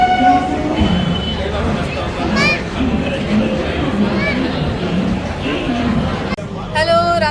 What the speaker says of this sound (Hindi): तो मैं हूँ अभी ट्रेन में।